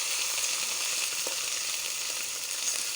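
Ginger garlic spice paste fries in a hot pan with a steady, dense sizzle that holds close and even throughout, with no voices over it.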